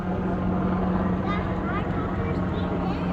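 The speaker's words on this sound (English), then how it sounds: "That's a military chopper." Black Hawk military helicopter passing overhead near Catalina Island, a steady close rotor drone throughout with a strong low hum and constant wash, one or more voices talking over it.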